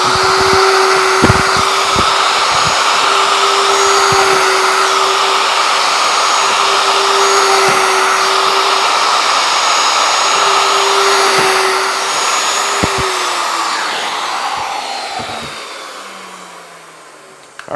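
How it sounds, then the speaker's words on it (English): A shop vacuum runs steadily as the first holes are drilled into a wooden shop wall cabinet. A constant whining roar dominates, broken by several short drill bursts, then winds down near the end. "to drill my first hole here, now it's clamped down, I've got to remove this pin."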